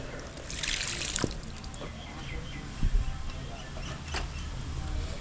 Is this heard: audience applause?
no